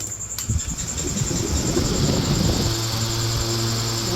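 A 775 high-speed electric motor fitted with a 16-inch fan blade whirs steadily at close range, loud and continuous with a whining tone that rises and settles as the speed picks up.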